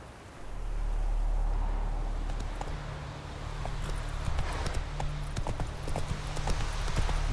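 Hooves of Roach, a horse in the video game The Witcher 3, clip-clopping in a quick steady rhythm that grows denser after a low rumbling start, with brief voices in the background.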